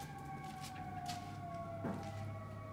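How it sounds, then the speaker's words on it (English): A fire truck siren wails in the distance with a steady descending tone over faint outdoor background noise, moderately quiet and with no talking. "That's a fire truck."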